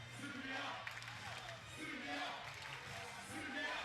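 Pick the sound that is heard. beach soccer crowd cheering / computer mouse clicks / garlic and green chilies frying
beach soccer crowd cheering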